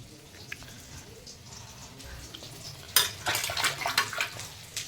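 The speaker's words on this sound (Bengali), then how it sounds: "হাতটা ধুয়ে নিই।" Hands being washed under a running tap in a home kitchen: quiet clinks and faint movement at first, then a burst of splashing water that runs unevenly for about two seconds.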